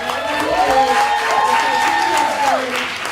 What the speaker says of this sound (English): can we give Chris a hand clap?